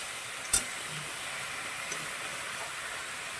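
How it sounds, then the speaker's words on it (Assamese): Chicken meat frying in a pan for an Assamese-style papaya chicken curry gives off a steady, soft sizzle and hiss throughout, with one brief sharp tap near the start. "এয়া মই মাংসখিনি অকণমান ভাজি লৈছোঁ"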